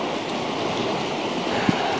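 The Tirlyanka river in spring flood rushes in a steady broadband roar of churning water, close and continuous, with a brief knock near the end and no talk.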